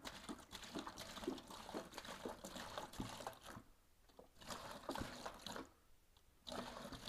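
Water pours into a mixing bucket for a cast-in-place mix, a steady rushing splash at close range that drops away twice in brief pauses.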